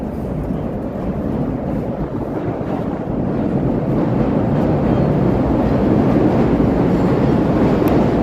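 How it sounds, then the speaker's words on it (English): A Chicago CTA elevated train passing around a bend at noon, heard from the street as a loud, steady, unbroken roar and rumble that fills the whole stretch, with no talking. "We'll get the elevated CTA train there around in the bend."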